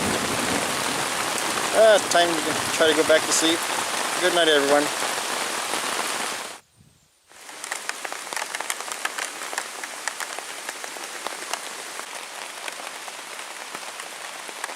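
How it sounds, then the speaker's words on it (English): Steady, heavy rain from a thunderstorm pours down in a dense hiss at a camp in Michigan's Porcupine Mountains; someone speaks quietly over it at first, then the sound briefly cuts out before the downpour continues. "Got a really good thunderstorm coming through right now. Been pouring down rain."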